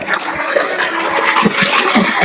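Water from an electric motor pump gushes steadily into a drum with a constant splashing rush, close and fairly loud, without any talk.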